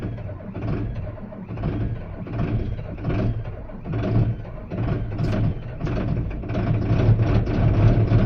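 A cold truck engine hauling manure revs under added throttle, a steady low rumble rising and swelling in bursts, fairly close and without voices.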